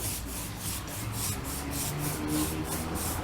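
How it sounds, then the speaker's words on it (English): Wood being sanded by hand with 320 grit sandpaper between finish coats, a steady rasping rub with evenly repeated strokes, close and moderately loud, with no talking. "I will give it a sand with a 320 grit sandpaper"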